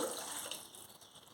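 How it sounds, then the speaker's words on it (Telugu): Half a cup of water is poured into a tamarind gravy with onions, a brief soft trickle and splash, faint and close, with no talk. "నీళ్లు కూడా ఇక్కడ మనం వేసుకోవాలి"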